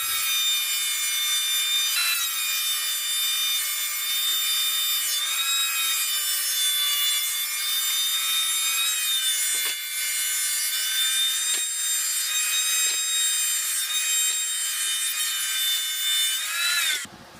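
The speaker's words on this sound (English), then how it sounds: "we're going to go ahead and run them through the thickness planer and get them to about 3/4 of an inch" Thickness planer running wooden boards through to bring them down to about three-quarters of an inch, a loud, steady whining drone with high harmonic tones that holds throughout, with a few brief knocks and no talking.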